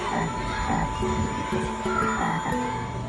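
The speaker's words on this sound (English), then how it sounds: "It's a frog." A frog croaks repeatedly in low, rhythmic calls over a steady background hum, fairly close and continuous.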